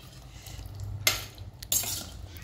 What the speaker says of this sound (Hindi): और इसे पहले मिला लेते हैं।